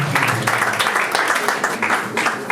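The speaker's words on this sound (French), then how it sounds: "Ne soyez pas gênés, veuillez applaudir." Guests at a civil wedding clap together in a continuous burst, the applause fairly close and even throughout, with faint murmuring of voices beneath.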